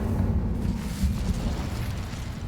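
Incendio fire spell cast in a Harry Potter video game, a loud rumbling burst of flame with a deep, sustained roar.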